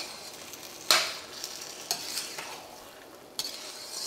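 Rava kesari with saffron and sugar cooks in a pan under a faint, low sizzle, broken by a few sharp scrapes and clinks of the spoon on the pan. The sound is close, quiet and without any voices.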